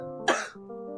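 A single sharp, close cough bursts out briefly and then gives way to a low, lingering vocal tone.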